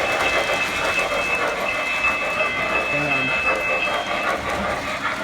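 A model freight train runs around a layout, producing a steady rolling rumble and faint clicking that continue beneath a person talking over it.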